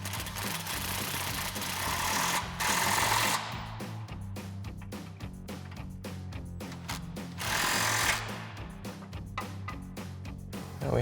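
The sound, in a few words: impact wrench with 17mm socket running in bolts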